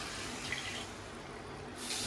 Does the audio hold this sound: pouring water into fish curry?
yes